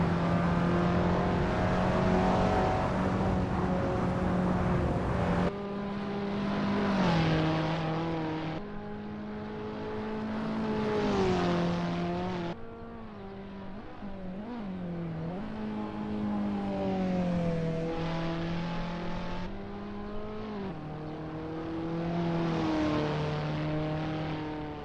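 An Abarth 500 race car engine in Assetto Corsa runs a practice lap at the Prague track, its tone rising through each gear then dropping sharply at shifts and braking, steady and close throughout.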